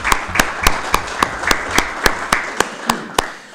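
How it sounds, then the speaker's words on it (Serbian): An audience at a public lecture on the 1914 Battle of Cer claps in steady rhythmic unison, about a dozen sharp even beats close by and fairly loud, with no talking. "molim vas sve da Kulturni centar pozdravimo i da im čestitamo jednim toplim aplauzom"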